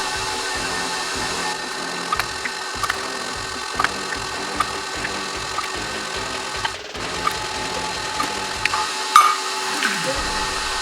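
An electric hand or stand mixer stirs eggs into vanilla sponge cake batter, a steady close whirring drone with faint intermittent clicks and knocks, running alone without talk.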